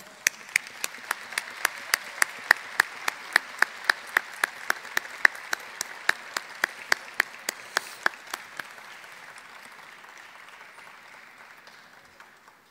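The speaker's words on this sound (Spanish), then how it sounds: "Y todos los demás les podemos dar un aplauso." An audience applauding at a postgraduate graduation ceremony, a soft distant wash of clapping with sharp, regular clicks cutting through it for about eight seconds before they stop and the applause fades out.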